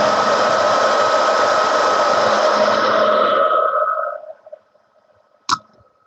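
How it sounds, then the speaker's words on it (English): A hair dryer blows in a loud, steady whoosh for about four seconds while drying watercolor paint, then switches off and winds down, followed by a single sharp click. "this is just the same hair dryer I use to dry my hair in the morning"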